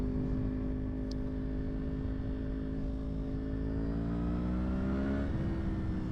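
A 1000cc Yamaha crossplane-engine motorcycle revs up, a loud continuous close engine drone with rising pitch toward the end, heard alone.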